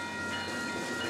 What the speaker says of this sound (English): there's just a lot of trains that go by here